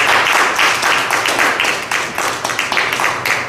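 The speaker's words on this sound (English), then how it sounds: "Clap your hands and give God praise." A church congregation claps their hands in praise during a service, giving steady, fairly loud rhythmic applause from many people for several seconds.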